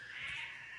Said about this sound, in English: I don't know if you can hear our cat in the background.